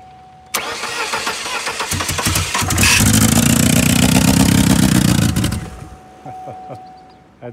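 A GMC truck engine cranks and fires, its roar building loud and close, then settling toward a rough idle before fading.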